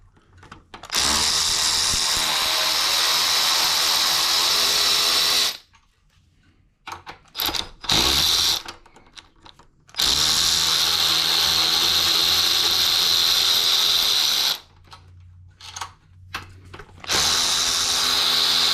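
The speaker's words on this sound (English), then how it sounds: "So I'm going to cheat with the power ratchet." A power ratchet spins off the rear wheel nut of a Razor C35 SLA electric scooter in loud, whirring bursts, with three long runs broken by short quiet gaps and a few faint clicks.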